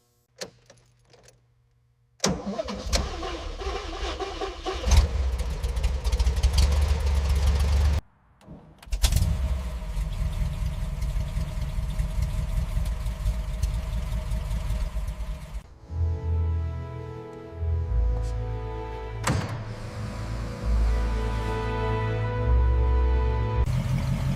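A 1936 Bugatti Atlantic engine cranks and catches on a cold start, then settles into a steady idle with some revving and mechanical clatter, fairly close and prominent.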